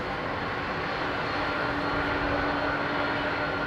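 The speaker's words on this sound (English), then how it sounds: "Just close your eyes, man, and listen to those beautiful engines." Airliner jet engines roar steadily on departure from Heathrow runway 27R, a loud, unbroken broadband rumble with a faint steady tone running through it and no voices.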